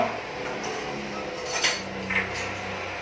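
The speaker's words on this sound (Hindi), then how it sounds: "चम्मच जो है वो चला लेना है ताकि ऑयल जो है वो सॉल्ट के साथ अच्छे से जरा" A spoon stirs salt into oil in a metal cooking pot for chicken karahi, giving a few soft clinks and scrapes, close but fairly quiet over a steady low background hum.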